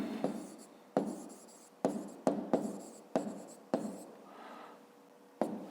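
A pen scratches out a maths answer on paper in a series of about nine quick, close strokes, each starting with a sharp tap and trailing off, with no talking.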